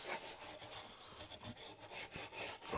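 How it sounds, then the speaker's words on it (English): A regular brush scrubs a cracked, worn hibachi barbecue grate in quick, uneven strokes, a faint dry rasping close by with no talking. "I'm just seeing if I can clean this off with a regular brush. I mean, it's a barbecue grate."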